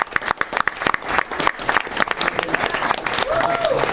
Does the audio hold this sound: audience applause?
yes